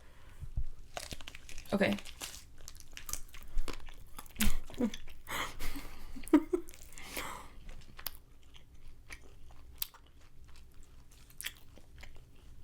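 Someone bites into Dollar Tree Dr Pepper meat and chews it up close, making moist crunching and crinkly chomps in irregular bursts with brief talk between them.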